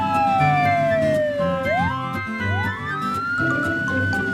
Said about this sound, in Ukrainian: це поліцейська машина